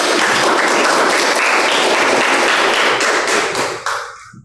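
A classroom of students claps their hands together in a brisk, dense burst of applause that holds steady and then trails off quickly at the end.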